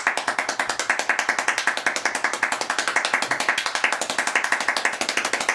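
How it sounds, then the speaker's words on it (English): Rapid hand clapping at about 14 claps per second, a fast, even, sharp patter of slaps held steadily for several seconds, close and loud with no talking. "I think we'll go for 14 claps per second"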